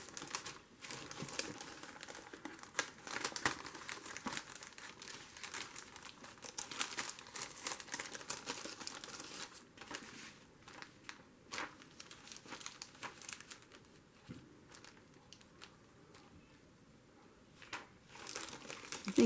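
A plastic window cling is slipped into a Halloween-themed paper junk journal, making soft, steady crinkling and rustling up close that runs for a long stretch with small bursts and pauses, and no one speaks.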